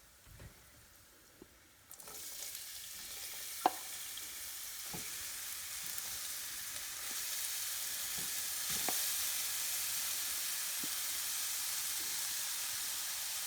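Carrots dropped into a pan with raisins for carrot halwa, setting off a steady sizzling fry with a few scattered clicks and taps of stirring, fairly quiet and with no talking.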